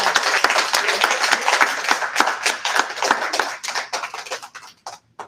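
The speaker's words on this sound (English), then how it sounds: "Let's give her another round of applause." An audience applauds a tribal member, Dr. Child, at a talk on the history of Indian boarding schools; dense, close hand clapping that thins into scattered claps and fades out near the end.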